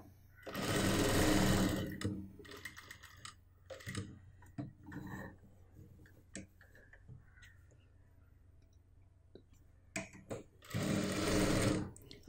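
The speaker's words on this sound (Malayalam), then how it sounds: "ഈ ഷോൾഡറിൻ്റെ ഈ ഭാഗത്തു നിന്ന് തന്നെ സ്റ്റിച്ചിങ് സ്റ്റാർട്ട് ചെയ്യാം." Sewing machine stitching the shoulder and neck of a churidar made from an old dupatta, with two sustained loud runs of whirring at the start and end and quieter handling sounds in between.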